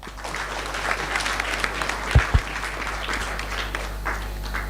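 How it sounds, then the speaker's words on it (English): Conference audience applauding at a scientific conference hall, a steady wash of clapping at moderate level throughout, with a couple of sharper low thumps midway. "Another round of applause."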